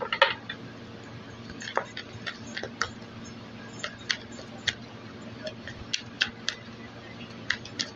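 Tarot cards are shuffled by hand, giving a quiet run of irregular light taps and flicks under a low background hum.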